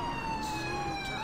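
A police car siren in the LCPDFR police video game wails with a steady, slowly shifting tone for a moment, continuous and fairly prominent against a background hum.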